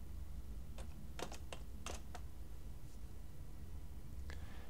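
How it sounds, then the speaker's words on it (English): Soft keystrokes on a computer keyboard as a short word is typed, a few quick taps in a brief burst with one last tap after a pause, faint over a low steady hiss. "So I'll type in I'll type in movie."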